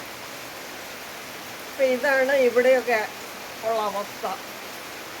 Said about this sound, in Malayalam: ഇന്ന് മഴ തോർന്നിട്ടേ ഇല്ല